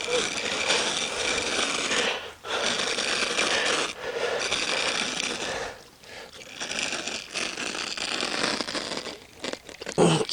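A blade cuts across carpet along a chalk line in a continuous rasping, ripping drag, close and fairly loud, with a few brief pauses as the cut proceeds.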